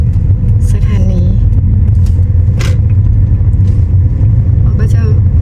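A car drives straight along a road in Laos, heard from inside as a steady, loud low rumble with continuous road noise and a few brief higher squeaks and clicks over it.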